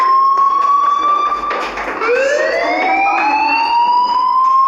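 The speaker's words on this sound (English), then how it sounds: "do you hear that fire alarm?" A loud electronic fire alarm in the video game Life Is Strange wails continuously, its pitch sliding and rising in long sweeps, with a faint second tone layered above.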